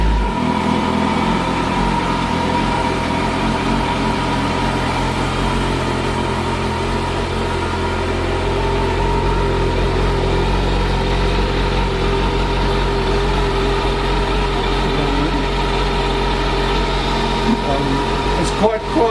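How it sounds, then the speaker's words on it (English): A car with push-button start idles quietly and steadily, a low, even engine hum held for the whole stretch while someone talks over it. "So you push the button first, it checks the fob is here, turn it on and press start"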